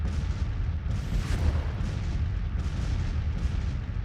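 Artillery fire in the Civil War strategy game Grand Tactician, a steady low rumble of distant cannon booms rolling one after another with no speech over them.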